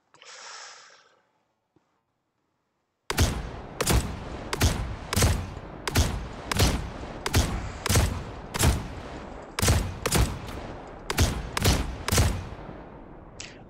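A shotgun in the video game Star Citizen fires single shots, about sixteen loud, evenly spaced blasts in a rapid rhythm, following a brief mechanical sound and a short silence.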